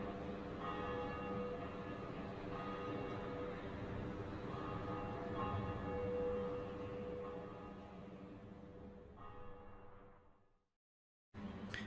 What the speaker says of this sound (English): The first Bell of Awakening has been rung.